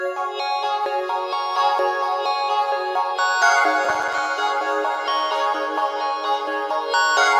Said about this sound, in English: it's just like a pretty simple pad pattern